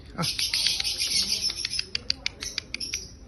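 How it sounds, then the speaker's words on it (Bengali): Many small birds chirping and calling together in a large park, a dense overlapping chorus of bright tweets with sharper individual calls standing out toward the end, fairly close and steady, no talking. "আরে কত পাখি রে"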